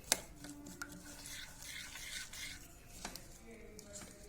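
Fresh turmeric pickle being mixed with lumps of jaggery, soft close scraping and rubbing of a spoon in a bowl, with a sharp clink at the start and a few light knocks.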